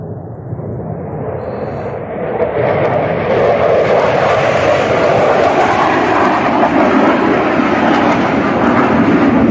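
A loud jet roar builds and holds steady overhead on a mountain trail, a broad rushing drone that fills the scene without any talking.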